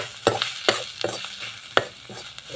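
Onion, ginger and chili frying with turmeric powder in a pan for vegetable khichdi, heard as a soft continuous sizzle broken by several sharp scraping stirs at an uneven rhythm, close and moderately loud, with no talking.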